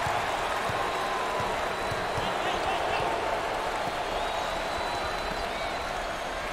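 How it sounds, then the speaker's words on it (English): A basketball crowd at the 2021 NIT Championship game between Buffalo and Tennessee roars and applauds for player number five, a dense, sustained noise from a large arena with a voice talking faintly underneath. "Number five is receiving an enthusiastic response from the crowd"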